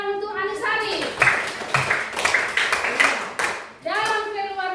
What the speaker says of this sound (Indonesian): tepuk tangan untuk Anisari